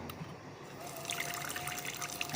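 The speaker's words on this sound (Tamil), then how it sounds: "நான் தண்ணி ஊத்துறேன்" Water pours and trickles in a home setting, a soft, continuous splashing stream heard up close and fairly quiet for a couple of seconds.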